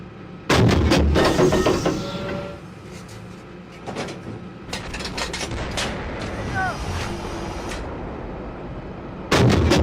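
Artillery guns fire in loud, close booming blasts, one opening shot and another at the end, with rumbling echoes, mechanical clatter and radio-style talk between.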